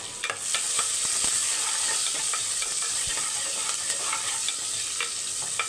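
Crushed garlic, two green chillies and a sprig of curry leaves sautéing in hot oil in a pan, giving a steady close sizzle broken by occasional stirring clinks, with no voice.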